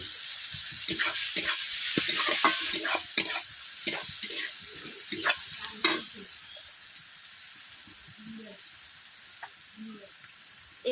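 Sliced onions with a little salt fry in a pan, giving a steady sizzle broken by repeated scraping stirs. The stirring is louder at first and then eases off, with no voices.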